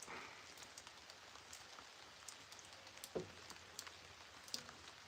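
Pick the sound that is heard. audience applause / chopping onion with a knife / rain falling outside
rain falling outside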